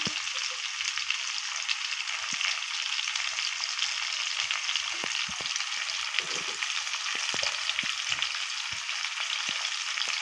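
Sliced bitter gourd fries in a pan with salt, giving a steady, dense sizzle that runs unbroken throughout, with occasional soft clicks of stirring and no voices.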